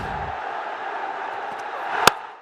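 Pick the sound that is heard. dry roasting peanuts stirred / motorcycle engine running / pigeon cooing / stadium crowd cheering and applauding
stadium crowd cheering and applauding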